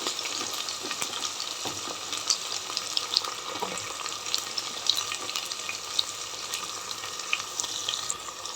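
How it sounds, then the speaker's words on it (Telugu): Thinly sliced onions fry in a pan, giving a continuous crackling sizzle with occasional stirring scrapes and small pops, close and moderately loud with no talk. "2 ఆనియన్స్ కట్ చేసి పెట్టుకున్నా సన్నగా, అవి కూడా ఇందులో వేసుకున్నాం. ఇది కొంచెం వేగనిద్దాం."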